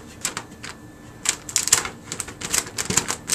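Turning the handle of a Xyron 2500 laminating and mounting machine produces irregular clicks and clacks, close and fairly loud, arriving in short uneven bursts as the media feeds through.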